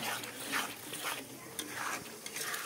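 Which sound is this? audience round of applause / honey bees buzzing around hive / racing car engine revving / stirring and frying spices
stirring and frying spices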